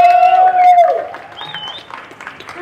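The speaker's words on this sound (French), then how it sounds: "On peut applaudir." A crowd at the Paris fair applauds a Korean traditional farmers' percussion performance; a sustained instrumental tone fades out as scattered clapping and crowd noise rise, moderately close, with some voices mixed in.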